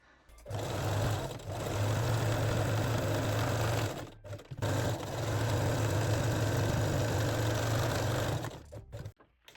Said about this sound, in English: sew along both edges with small zigzag stitch